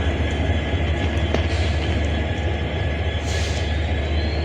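A train arriving at platform 6 of Guwahati railway station rumbles steadily, with low heavy rolling noise and occasional metallic squeals and clatter.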